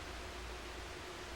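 A steady, even wash of soft hiss-like noise from the video game Path to Nowhere, flat and unchanging throughout with no voices over it.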